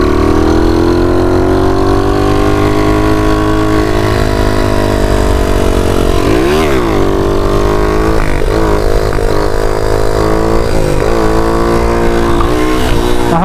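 A moped engine runs loud and close with a steady buzzing drone, rising in pitch as it is revved and shifting through gears, with no voices.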